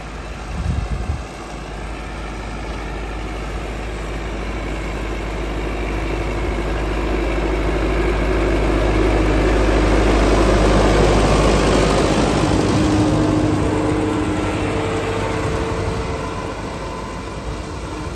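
A tractor engine runs while mowing hay, a steady low drone that swells louder midway and then eases off slightly, with no talking over it.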